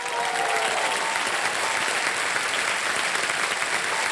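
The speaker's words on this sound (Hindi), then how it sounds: "और एक बार फिर तालियां बज जाए इनके लिए" Studio audience on a TV quiz show set giving sustained applause, dense and loud clapping from many hands throughout without letting up.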